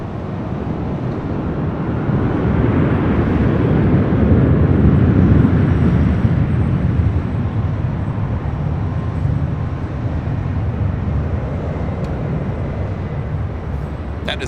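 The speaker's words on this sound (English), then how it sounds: "That is American Airlines Flight 4 heading to JFK in this A321." An American Airlines Airbus A321 jet at LAX, a broad roaring engine rumble that swells to a peak and then holds as a steady loud drone, heard outdoors with some wind buffeting.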